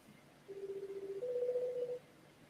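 A phone call's electronic dialing tone plays as two steady pulsed tones, a lower one and then a slightly higher one, faint over quiet background hiss.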